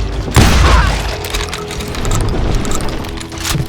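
Gunshots in the video game Call of Juarez Gunslinger, with a loud booming blast near the start and then a dense, continuous rumble of shooting and noise that stays loud throughout, with no clear talking.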